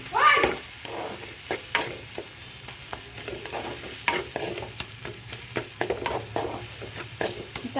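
Potatoes stir-fried with spices and salt in a pan over a medium-to-low flame: repeated scraping strokes of a spatula over a soft, steady sizzle, close and clear, with no talk.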